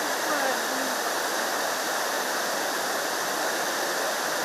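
Water pours over the brimming Chikli Hole dam in Kodagu after three days of heavy rain, making a loud, continuous roar like a waterfall that stays dense and unbroken throughout.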